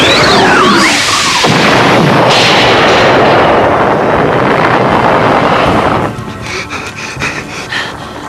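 Loud animated weapons firing from a cartoon, a continuous roaring barrage with wind-like rumble that cuts off after a few seconds and leaves quieter clattering.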